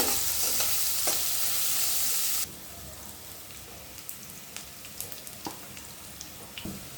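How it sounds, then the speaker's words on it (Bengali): Onions frying in a pan, first a loud, dense sizzle that drops abruptly to a quieter, steady crackle with scattered pops and light stirring clicks, and no talking. "এই যে আমি পেঁয়াজ দিয়ে দিলাম, পেঁয়াজটাকে ভেজে নিচ্ছি"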